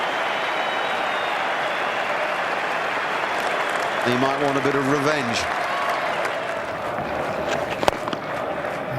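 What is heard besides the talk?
cricket crowd applauding Gilchrist's fifty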